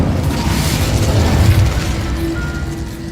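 Incendio fire spell cast in Hogwarts Legacy, a loud whooshing, roaring burst with a deep rumble, followed by a fading crackle and a faint tonal hum.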